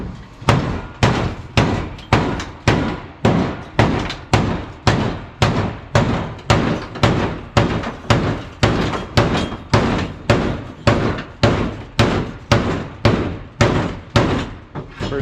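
A hammer pounds a bump out of the floor pan of a Honda Civic chassis, heavy metallic blows landing in a steady rhythm of about two per second, loud and close throughout.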